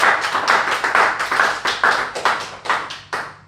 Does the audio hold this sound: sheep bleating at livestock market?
no